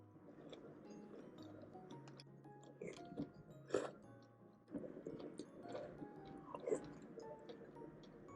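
Crisp, crunchy food is chewed up close during a Korean mukbang meal. Soft crunches and bites come in uneven bursts, quiet and alone.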